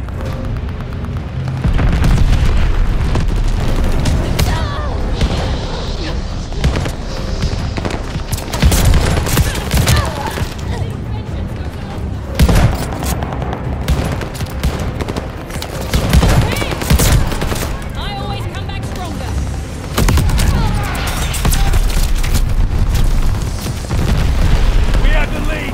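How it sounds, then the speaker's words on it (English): Friendly bombing run in Call of Duty: Vanguard, a dense barrage of loud booming explosions mixed with rapid machine-gun fire, continuous and close throughout, with battle shouts heard under the blasts. "Friendly bombing run on the way."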